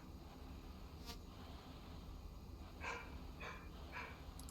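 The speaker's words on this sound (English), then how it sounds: "can hear a dog barking" A dog barking faintly in the distance in the Falcon BMS flight simulator, four short barks under a constant low engine hum from an F-16 on the ramp.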